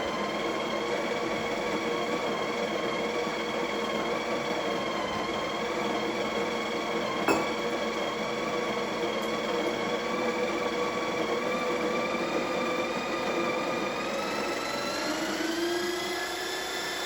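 Steady, loud whirring drone of a coffee grinder grinding beans for a Breville Bambino Plus espresso machine, running continuously and close with a slight pitch shift near the end.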